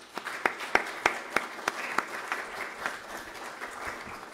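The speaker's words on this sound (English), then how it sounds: "for these folks with a round of applause." Congregation applause in a church worship service, a round of clapping with a few sharp distinct claps early, then a steady, moderately soft patter that continues alone.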